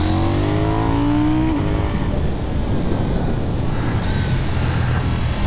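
A 2024 KTM 990 Duke motorcycle accelerating hard on tight, twisty roads, a loud rising engine roar that drops sharply as it shifts up a gear, followed by continued rough, wind-buffeted engine noise, heard from the rider's position.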